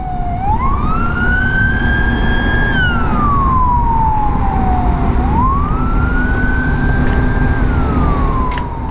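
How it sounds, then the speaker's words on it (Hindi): A loud ambulance siren wails in long, slow rising and falling sweeps over a steady road rumble, close by and continuous, as the ambulance follows behind a motorcycle on a highway in Turkey. "मुझे लगता है एम्बुलेंस वाले ना हमें फॉलो कर रहे हैं, मेरे पीछे पीछे ही आ रहे हैं।"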